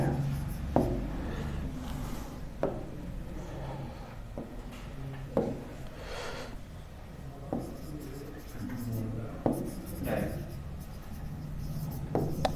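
Chalk or marker strokes on a board during a classroom lesson on income tax, a steady scratching and tapping run of writing with occasional sharper knocks, heard under a teacher talking.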